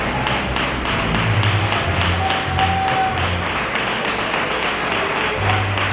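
Church congregation clapping along during an evening worship service, a steady rhythmic patter of many hands that fills the room loudly and continuously without a break.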